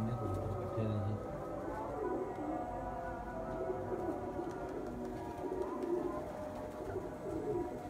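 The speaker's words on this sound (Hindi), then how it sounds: "कितने कबूतर इकट्ठे हैं जी।" Pigeons coo in low, murmuring calls as racing birds come down to land, with faint background noise and a person talking nearby.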